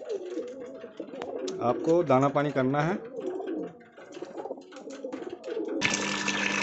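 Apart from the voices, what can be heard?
pigeons cooing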